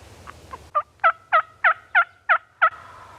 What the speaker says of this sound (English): They're back here in this bottom gobbling still